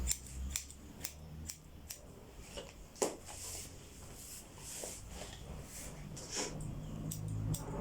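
Scissors cut hair with rapid point-cutting snips, a string of crisp, close clicks at an irregular rhythm with a few louder snips along the way.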